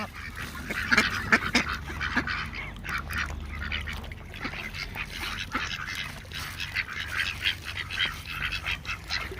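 Ducks at a park quack repeatedly in a loose, overlapping chorus of near and farther calls, with faint background ambience and no clear talk.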